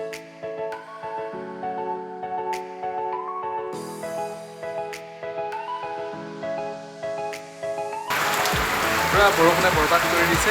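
Heavy rain falling outside, starting as a dense, loud, steady downpour after a stretch of tonal music and continuing to the end.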